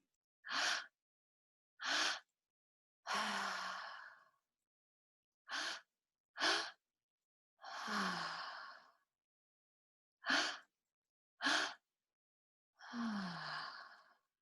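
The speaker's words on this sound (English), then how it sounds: "So we're making the exhale longer than the inhale." Slow, deliberate breaths during a guided breathing exercise, several short inhales and long drawn-out sighing exhales separated by silent pauses, close and quiet with no talking.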